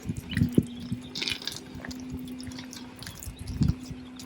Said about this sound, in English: You see it flowing water out of the low point drain.